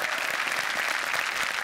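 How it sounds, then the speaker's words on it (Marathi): An awards-ceremony audience on a Marathi comedy show applauds a winner, a dense, even wash of clapping from a large crowd. "जोरदार टाळ्या त्यांच्यासाठी"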